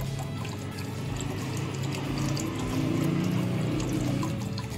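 Water overflowing the rim of an aquaponics grow bed and draining away makes a continuous, steady pouring and splashing, close by and unbroken for several seconds, with no talking.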